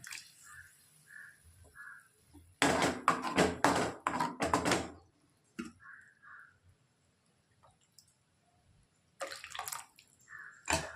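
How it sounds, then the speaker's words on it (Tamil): Water poured into a mixer jar in a home kitchen while making a pea dish, with two strong splashing pours and a shorter one near the end, separated by quiet and occasional crow caws outside. "இன்னும் கொஞ்சம் வாட்டர் ஆட் பண்ணிக்கலாம்."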